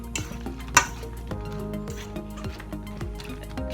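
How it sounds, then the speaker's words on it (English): Cauliflower florets are stirred through batter in a bowl, producing soft wet squelching and scraping with a sharp utensil clink near the start, close and quiet. "you dump them into this batter. Stir them around so they get all coated."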